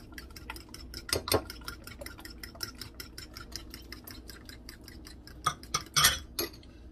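Eggs and butter are whisked in a bowl, producing a rapid, even ticking of a whisk against the bowl that goes on throughout, fairly quiet, with a few louder clinks and scrapes standing out.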